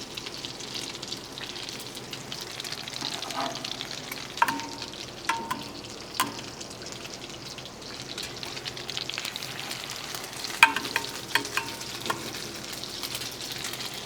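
French toast sizzles in a hot pan with a steady soft frying hiss, broken by a few sharp clicks and taps of a utensil against the pan, heard up close with no talking.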